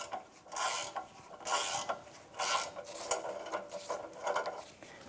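A hand ratchet clicks in repeated bursts, close and fairly quiet, as bolts are loosened on the exhaust flex pipe of a Chevrolet Trax.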